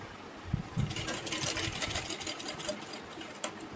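A sewing machine runs steadily, stitching a folded-in round neckline on a short frock. The motor is close and continuous, with a busy clatter that holds for a few seconds and no talk over it.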